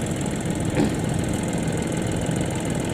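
A Shibaura tractor engine runs steadily nearby, a continuous rough diesel chug with constant loudness and no speech.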